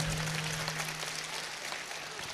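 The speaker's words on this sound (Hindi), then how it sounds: "कितना ताली बजा सकत हो, एक बार बजा के बताओ।" Audience applause at a Hindi comic poetry (hasya kavi) recital: a dense, steady wash of crowd clapping that fills the whole stretch, with a brief voice near the start.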